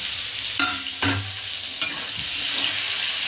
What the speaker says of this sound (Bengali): এগুলোকে খানিকটা আমি ভেজে নেব। ভাজা হচ্ছে